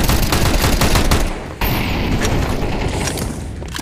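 Rapid automatic gunfire in Counter-Strike 2 comes as dense, loud bursts, briefly cut off near the middle before the shooting resumes with no talking.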